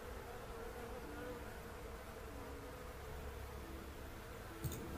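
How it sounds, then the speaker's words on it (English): A crowd of flies buzzes in a continuous, dense insect drone, a sound effect for a tabletop role-playing game, steady and fairly faint, with a brief tap near the end and no talking. "there is a sudden crowd of flies that starts just buzzing around you, Melon."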